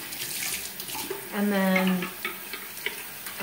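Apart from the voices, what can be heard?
running water splashed on face to rinse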